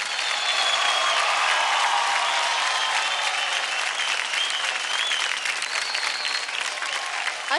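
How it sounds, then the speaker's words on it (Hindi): A studio audience on a TV dance show claps and cheers for a long, steady stretch, a loud, dense wall of applause that holds for several seconds without a break. "जोरदार ताली हो जाए"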